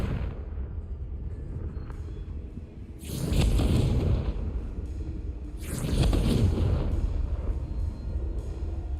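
Confringo fire-spell blasts in the video game Hogwarts Legacy on PS5, two loud booming bursts with crackling, fiery rumble, each swelling and fading over a low ambient game background.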